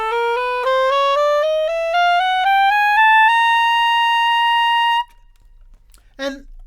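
A clarinet climbs chromatically through the clarion register from B natural toward high C, each step a clean, bright sustained tone in an even rising sequence, then a short silence and a brief rustle.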